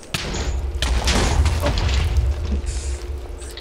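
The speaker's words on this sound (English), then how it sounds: "How are you still exploding down there?" A Minecraft explosion rumbles with a heavy low boom and crackling debris, sustained and loud for several seconds before tailing off, with a few faint voices around it.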